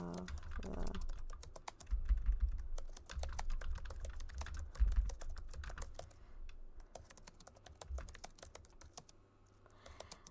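Rapid clicking of keys on a computer keyboard, typed in uneven bursts with short pauses, close and fairly quiet, with no one talking.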